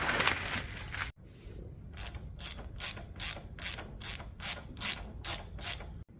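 A ratchet wrench clicks steadily as old Champion spark plugs are backed out of a Cub Cadet 682 engine, about a dozen evenly spaced bursts of close, crisp ratcheting after a brief louder rustle at the start.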